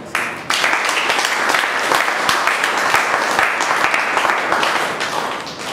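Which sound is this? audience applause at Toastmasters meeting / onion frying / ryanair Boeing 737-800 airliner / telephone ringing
audience applause at Toastmasters meeting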